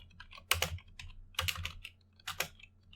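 Python code being typed on a computer keyboard: close, crisp keystrokes in three quick bursts separated by short pauses, with no voices.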